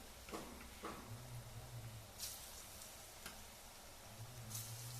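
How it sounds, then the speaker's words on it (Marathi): Small batter fritters for motichur ladoo fry over medium heat in oil, a very faint, steady sizzle with a few soft clicks and taps from utensils and no voices. "एकच मिनिट आपल्याला मिडियम गॅसवरती हे वडे तळून घ्यायचे आहेत"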